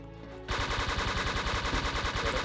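Rapid automatic gunfire in the online shooter Wolfteam bursts in after a short quiet moment and keeps hammering in a dense, loud, evenly spaced stream until the end.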